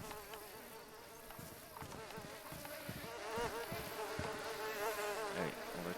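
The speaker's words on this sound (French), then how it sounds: "Vous entendez les mouches?" Flies buzzing around a corpse in the video game DayZ, a dense, continuous close drone of wings with wavering pitch that swells slightly louder in the second half.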